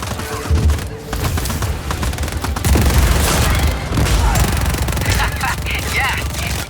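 Cannon fire and explosions in the Just Cause 4 video game boom in a dense, continuous barrage of heavy blasts and crackling gunfire-like bursts, loud and close throughout with no pause.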